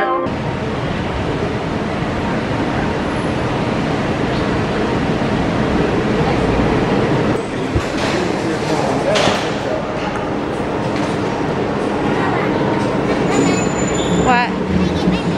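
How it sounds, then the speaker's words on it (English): A Walt Disney World monorail ride, with steady rumbling rail-car noise and cabin hum throughout, occasional high squeals and tones, and people talking nearby over the running train. "So we're gonna make our way over on the monorail."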